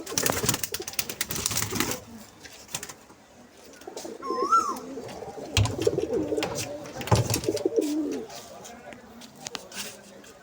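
Pigeons coo in low, rolling phrases close by, with people talking and a few other bird chirps around them.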